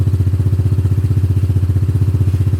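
A Honda ADV 150 scooter fitted with a Yoshimura exhaust idles up close with a steady, rapid, even chugging pulse that stays loud and unchanging throughout.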